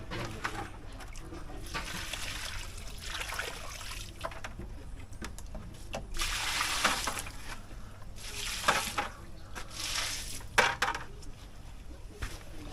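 Water splashes and pours in bursts as backyard farm plants are watered, over a steady outdoor background, with a few soft bird calls in the distance.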